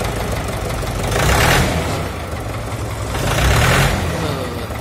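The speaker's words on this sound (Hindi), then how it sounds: "देखिए क्या साइलेंट इंजन है इसका" A 1989 Mahindra 444 tractor's diesel engine idles close by, a loud steady chugging rumble that swells twice as it is briefly throttled up, with no talk over it.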